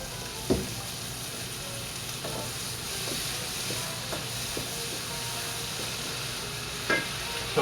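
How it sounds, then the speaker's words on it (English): Vegetable broth hits a hot pan with tofu during fried rice cooking, making a steady, close sizzle with a few sharp clinks and scrapes of a utensil, and no one speaks. "A little bit of PC Organics vegetable broth, just to deglaze the pan."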